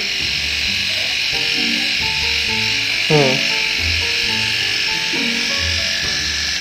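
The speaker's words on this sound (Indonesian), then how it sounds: "Jadi alat cukur ini nggak bisa sekali kayak gini langsung bersih, enggak ya, jadi harus beberapa kali." A Solo River rechargeable electric shaver buzzes loudly and steadily throughout a shave, with a person talking over the hum.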